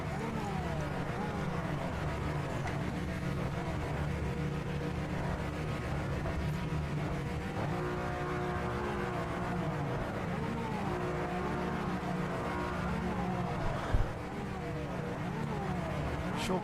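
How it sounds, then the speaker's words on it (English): Race car engines in the game Project Motor Racing drone and rev continuously on a starting grid, many cars layered into a steady, loud buzzing roar with rising and falling pitch sweeps. "Sure guys, rev those cars"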